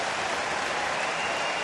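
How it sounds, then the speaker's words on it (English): Irish rugby fans in a stadium applaud the Russia team at the 2019 Rugby World Cup, a dense, even wash of crowd clapping, steady and fairly loud throughout. "And applause from the Irish side for Russia."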